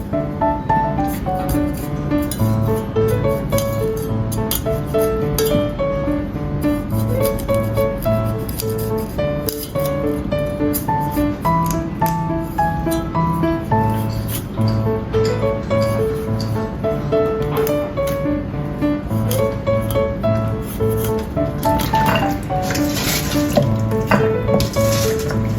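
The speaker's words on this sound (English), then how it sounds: "Cut broccoli into florets, wash and set aside." Steady running tap water pours into a kitchen sink as broccoli florets are rinsed, a continuous splashing wash with faint clinks, with no talk.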